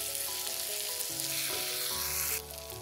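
Masala with turmeric sizzles steadily in hot oil for a Kerala clam roast, a dense continuous frying hiss close up that brightens sharply near the end as more spice goes into the pan.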